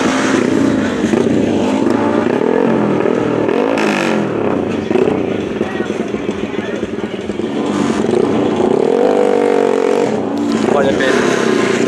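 Yamaha Exciter 150 cc racing motorcycles at a speed race event, engines loud and revving hard throughout, with a commentator's voice running continuously over the roar.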